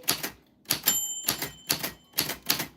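Typewriter keys strike in quick, evenly spaced bursts, close and fairly quiet, with a brief ringing bell tone sounding early among the keystrokes.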